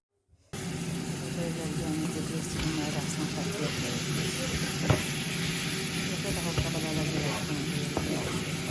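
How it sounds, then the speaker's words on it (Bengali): Onions frying in oil with ginger garlic paste cube and salt, a loud continuous sizzle that starts abruptly after a moment of silence and crackles steadily close by. "আমি তেল দিয়ে পেঁয়াজ দিছি"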